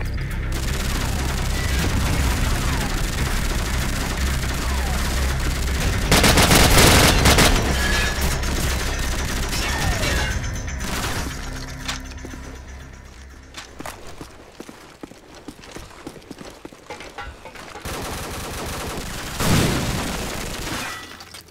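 Gunfire in a Call of Duty multiplayer match: dense, continuous bursts of weapon fire and impacts with loud explosive peaks, thinning into scattered shots and clatter toward the end.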